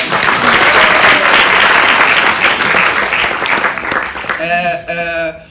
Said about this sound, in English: Can you please give round of applause to my chair?